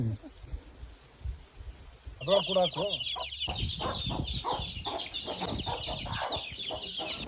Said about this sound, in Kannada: ಕೋಳಿನ ಕಾವಿ ಕೂರಿಸಿದ್ರು, ಅಂದ್ರೆ ಕೋಳಿನ ಮರಿ ಮಾಡಕ್ಕೆ ಕೂರಿಸಿದ್ರು